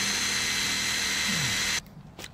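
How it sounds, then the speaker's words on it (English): A power drill bores a hole into red brick wall to refit an outdoor box, whining loud and steady for nearly two seconds before cutting off abruptly, followed by a brief short burst. "doesn't wreck the drill, because I've done this no end of times to drill a couple of holes"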